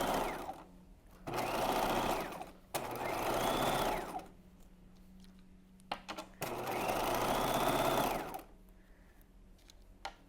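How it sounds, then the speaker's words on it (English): A sewing machine stitches bodice channels in bursts of fast, even mechanical whirring, three or four runs separated by short quiet pauses. "I'm gonna keep going like this, sewing all of my channels."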